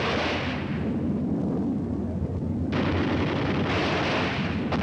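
A deep rumbling blast from Korean war combat footage, a sustained roar of explosion and artillery fire that swells, drops briefly, then surges again, with no speech.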